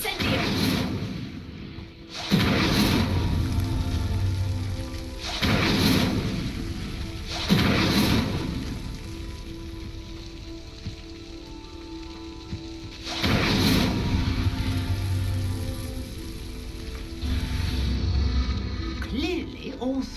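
Repeated Incendio fire spell bursts in Hogwarts Legacy igniting ritual pyres, several loud whooshing blasts spaced a few seconds apart with rumbling flame between.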